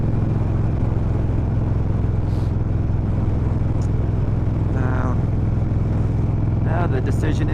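A motorcycle roars along a road with a constant, loud engine drone and wind rumble, while brief chirps and tonal sounds pass over it near the end.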